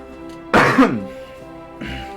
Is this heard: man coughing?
yes